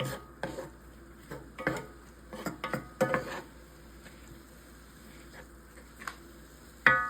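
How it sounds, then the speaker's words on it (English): Garlic powder and seasoning are mixed together in a pan on a stovetop, with a series of scraping, clattering utensil strokes against the pan, busy at first, then a quieter stretch and a final sharp clink. "You're going to want to go ahead and mix that all together."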